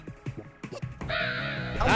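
A bird enemy in A Hat in Time gives a loud, harsh cawing cry that swells and holds for about a second. It comes after a few short chirpy game sounds and a voice talking.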